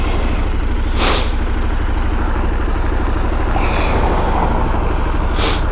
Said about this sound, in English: Like all the traffic in town right here.